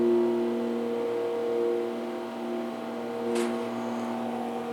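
Schindler MT hydraulic elevator motor at a Holiday Inn Express in St. Croix Falls, Wisconsin, running with a steady, close hum that holds level throughout, with one brief higher whoosh near the end.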